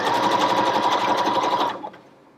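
A Janome HD5050 sewing machine stitches a zigzag in a steady, loud mechanical whir with a fast rhythmic chatter. The needle runs for nearly two seconds and then winds down to a stop.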